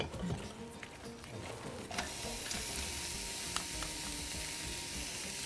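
Crab and onion cooking in melted butter in a pan, a steady close sizzle that swells after a couple of seconds and holds, with occasional stirring scrapes.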